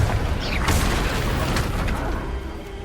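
A Confringo fire spell blasts in the Hogwarts Legacy video game, a broad burst with crackling bursts that stays loud and dense throughout, over a low rumble.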